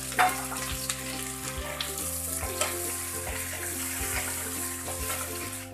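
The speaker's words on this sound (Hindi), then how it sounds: "अब यहीं पर डाल देंगे हम टमाटर और इसे ही भून लेंगे" Onion and garlic frying in a pan with tomato just added for matar paneer, a steady close sizzle with occasional stirring scrapes and clinks, no voices.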